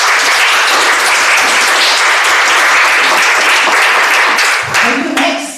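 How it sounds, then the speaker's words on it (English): Sustained applause from an audience at a Toastmasters area international speech contest, loud and steady for several seconds before fading as a voice begins to speak at the end. "let's give a round of applause to invite our speech contest Toastmaster"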